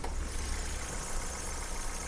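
A 2010 Hyundai i10 car engine idling, a steady close rumbling drone with even broadband noise and no change in pace, with no talking over it.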